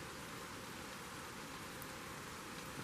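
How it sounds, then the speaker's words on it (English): Rain falling outside at dusk makes a steady, even hiss throughout, faint and distant, with no talk over it. "Can you hear the rain outside?"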